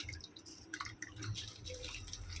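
Water from boiled basmati rice for Hyderabadi biryani drains and drips steadily through a strainer, a close, continuous wet trickle with scattered splashy drops and no talking.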